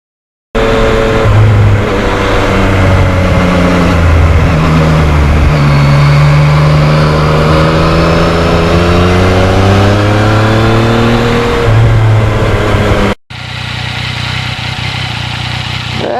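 A 2020 Yamaha MT-09 motorcycle rides along with its engine revving loudly and steadily, pitch rising and falling through gear changes for most of the stretch, then a brief cut to a quieter, steadier engine drone.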